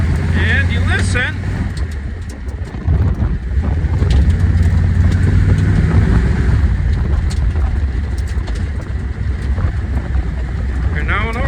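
1958 Edsel hardtop driving in overdrive, a steady low engine and road rumble with strong wind buffeting heard from inside the car, loud and continuous.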